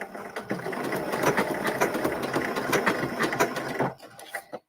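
Sewing machine stitching a fabric scrap, running steadily with a fast mechanical whir and clatter for about four seconds before slowing and stopping with a few last clicks.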